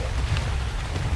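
Rain falls in the survival video game ARK, a dense, steady hiss with low rumble filling the whole short stretch, no voices.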